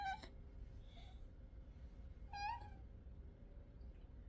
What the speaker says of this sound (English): No, it's just your nose making a whistly sound.